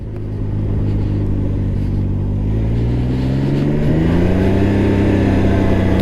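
A 2022 Can-Am Ryker 900 three-wheeler's engine drones steadily while riding on an open road, loud and close, with its pitch rising gradually as it gathers speed.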